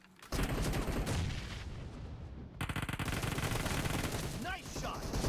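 Rapid automatic gunfire from the battle royale game BGMI in a 4v4 team deathmatch arena, loud dense bursts of shots in quick succession with a brief pause midway.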